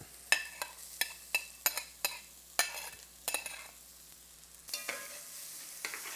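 Onions and garlic frying in a pan for an Italian tomato sauce, a low sizzle broken by a series of sharp scraping and tapping stirs, louder frying toward the end, no voices.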